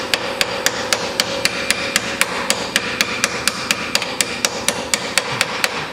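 Repeated hammer blows driving coilovers into place on a Honda, a steady rhythm of sharp metallic strikes about every quarter second, close and loud with no talk.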